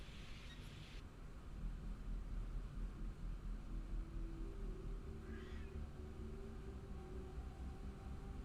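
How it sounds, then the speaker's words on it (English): A house cat meows, a pet named Kita, with a brief thin cry standing out over steady low background noise in a quiet indoor room. "My cat, when she meows"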